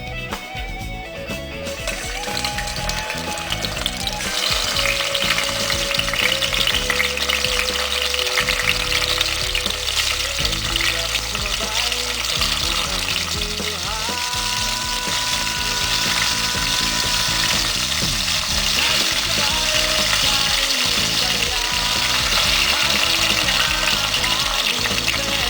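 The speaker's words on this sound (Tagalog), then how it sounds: "Once na mainit na yung mantika, pwede nang fry itong chicken." Chicken for adobo is frying in hot oil, a loud, dense, continuous crackling sizzle, with a mechanical whirring hum running underneath the whole time.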